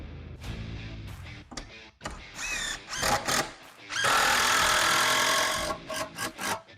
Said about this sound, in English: Let's put one more screw in it just for good measure on this side to keep it from rotating.